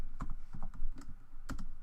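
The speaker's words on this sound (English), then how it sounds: "So we can type this in." Several quick bursts of computer keyboard typing, clustered key clicks up close with short pauses between them, no talking.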